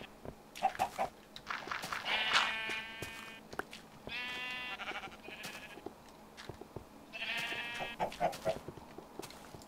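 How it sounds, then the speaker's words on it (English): Chickens in Minecraft cluck and squawk in a few short bursts at low volume, with quiet game noises between the calls. "I have chickens."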